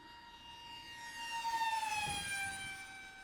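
An E-flite Habu SS 50mm electric ducted-fan RC jet sweeps past on an inverted pass, its high steady whine rising in pitch and loudness as it nears, then sliding down as it moves away.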